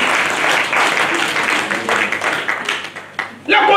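A church congregation at a morning service breaks into loud, sustained applause to acclaim the Lord, dense clapping filling the room while voices call out over it, then a fresh burst near the end.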